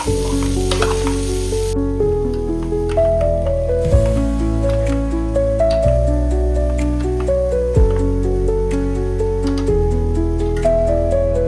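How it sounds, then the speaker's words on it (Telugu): Bitter gourd (spiny gourd) pieces fry over low heat in a pan, a steady loud sizzle broken by repeated stirring scrapes and clinks at a roughly two-second rhythm, with no talking. "ఇప్పుడు వీటన్నింటినీ కూడా ఒకసారి కలుపుకుందాము."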